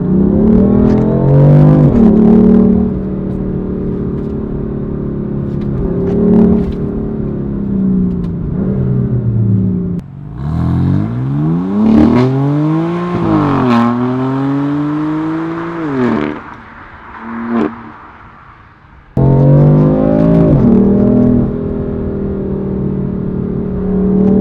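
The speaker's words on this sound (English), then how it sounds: "I'm actually revving the car" A BMW M4 engine revs repeatedly up close, each loud rising surge peaking and falling back, with a brief quieter idle dip before another sharp burst.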